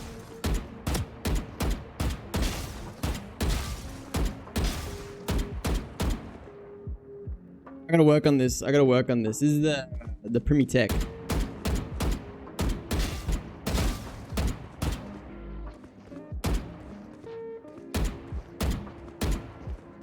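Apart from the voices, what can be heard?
gunfire in a video game shooter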